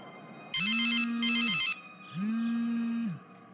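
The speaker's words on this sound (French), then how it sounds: "Je vais appeler sur son portable." A mobile phone rings as someone calls it: two long electronic ringtone bursts with a pause between, clear and fairly close, with no voices.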